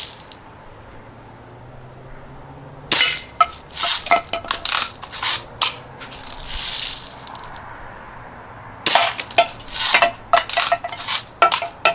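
Pellets from a Daisy Red Ryder BB gun strike recycling cans in bursts of sharp metallic clinks and rattles, two loud clusters separated by a quieter stretch with no talk.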